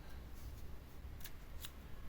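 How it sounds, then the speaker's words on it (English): Scissors snip through yarn at the end of a crocheted men's shirt, two quick, faint cuts standing alone over a low, quiet room hum. "you're going to chain one and cut your yarn"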